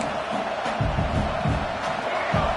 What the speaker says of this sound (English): And this crowd coming to life here, trying to help the defense get a stop with the offense pinned back.